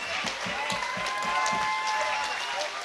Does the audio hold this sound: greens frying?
no